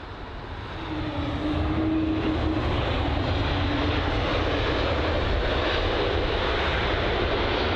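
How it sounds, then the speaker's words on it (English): A Lufthansa Airbus A320neo jet at London Heathrow swells into a loud, continuous engine roar within the first second and stays steady, with a faint whine running through it and no speech. "The Lufthansa A320neo."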